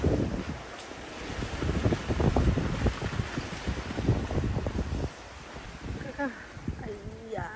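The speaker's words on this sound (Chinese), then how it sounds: "今天洛杉矶突然间刮起大风" Strong gusty wind in a Los Angeles yard buffets the microphone with loud, uneven rumbling throughout, easing slightly near the end while a voice speaks over it.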